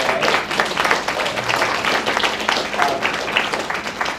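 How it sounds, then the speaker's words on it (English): A room full of people at a primary care presentation gives a steady round of applause, dense clapping sustained evenly from start to finish with no talk over it. "please give everybody a round of applause for being here today"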